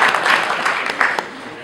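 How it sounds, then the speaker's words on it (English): A town hall audience gives a short burst of applause for the chaplain, a dense wash of clapping that fades after about a second. "give a round of applause to the chaplain"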